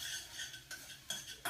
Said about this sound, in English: So it's stir frying right now